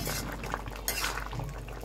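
Jute leaves and red lentils stirred in a pan, a short stretch of soft clinking and scraping over a wet, bubbling simmer, close and steady.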